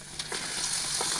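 Homemade papad sizzles in hot oil, a steady bright crackling fry with small bursts of popping, close and fairly quiet, with no voices.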